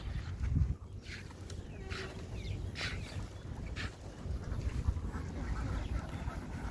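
Ducks that have strayed outside the flock quack in scattered bursts over a noisy outdoor background, close by and moderately loud.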